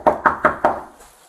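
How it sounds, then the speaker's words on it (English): Four quick, firm knocks on an apartment door, evenly spaced and close, followed by a short fading silence. "how would you know we're knocking on the door?"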